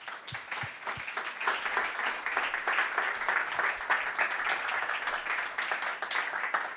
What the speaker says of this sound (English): Give us a big round of applause for Bernhard